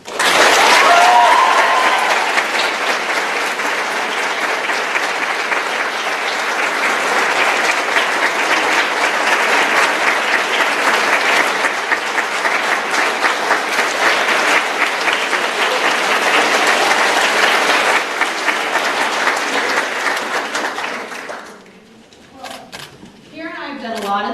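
An audience at a chapel talk welcomes guests with loud, sustained applause that runs for about twenty seconds, then fades into a brief moment of speech at the end.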